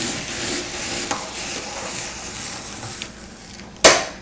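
A hand-crank apple peeler turns through an apple, giving a soft continuous scraping hiss, a faint click early on and one sharp louder clack near the end, with no talking.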